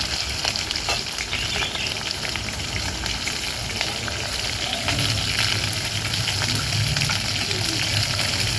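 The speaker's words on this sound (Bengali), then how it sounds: "এবার আমি পেঁয়াজটা দিয়ে দেবো।" Sliced onions, cut in large chilli-chicken-style pieces, go into hot oil with tempering spices in a pan and fry with a loud, steady, close sizzle that stays constant throughout.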